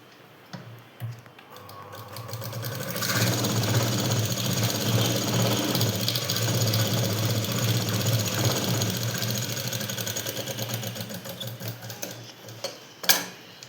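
A sewing machine stitching blouse fabric, its fast rhythmic whirring starting after a few handling clicks, running steadily for about nine seconds, then stopping with a couple of louder knocks.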